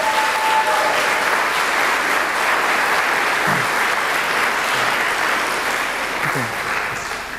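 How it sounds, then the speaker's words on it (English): Sustained applause from a conference crowd fills the room, steady and fairly loud throughout with a few scattered voices underneath. "just stand up for a second so we could give you applause."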